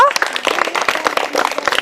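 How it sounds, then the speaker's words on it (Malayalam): Schoolchildren clapping their hands at an LP school event, a quick, dense patter of many small claps that runs steadily through the moment, fairly close and lively with voices mixed in. "നല്ലൊരു ക്ലാപ്പ് കൊടുത്തിട്ട് വിടടോ"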